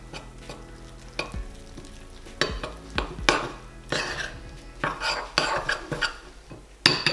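Water is mixed into a paste for hot cross buns, heard as irregular close scraping and stirring strokes against a bowl with occasional utensil clinks.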